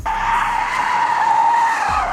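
A Tesla Model 3 Performance, a 2022 model with both wheels bogged down, skids with a loud, sustained tire squeal and engine whine that hold steady for about two seconds before easing at the end.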